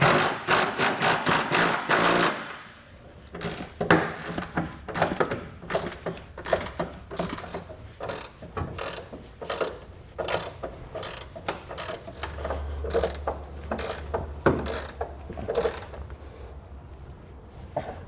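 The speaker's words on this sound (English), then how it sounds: "grab a 3/4 inch or 19 millimeter socket and wrench, and start getting everything tightened" A socket wrench ratchet clicks rapidly in bursts while tightening fifth wheel rail bolts on a 2022 Chevy/GMC truck, close and distinct with brief pauses between strokes.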